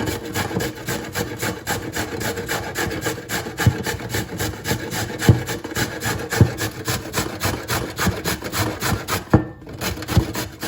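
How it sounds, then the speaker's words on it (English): Carrots, two large and one small, grated quickly by hand on a grater, giving a steady rhythmic rasping scrape, stroke after stroke, close and fairly loud with no voices. "I'm going to grate all these carrots"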